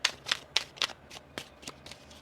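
Tarot cards are shuffled in a quick, even run of about eight crisp riffling bursts, close up and fairly soft, with no talking over them.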